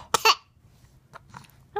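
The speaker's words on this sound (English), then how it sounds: "you're coughing on something" Short coughs from a baby, two quick bursts near the start followed by quieter throaty sounds and a small voiced noise at the end, close up in a quiet room.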